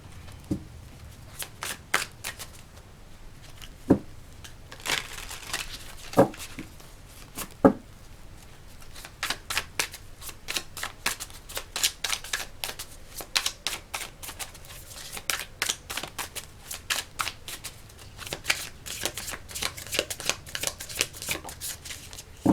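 Tarot cards being shuffled by hand, with a long run of crisp, rapid riffling clicks and flicks that come in uneven bursts, close and fairly loud, with no voice.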